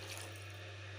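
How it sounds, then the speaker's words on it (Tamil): Water from a mixer jar pours steadily into masala cooking for poori, a continuous close splashing flow with a low steady hum beneath and no talk. "இந்த ஸ்டேஜில் தண்ணி கொஞ்சம் விட்டுக்கலாம்."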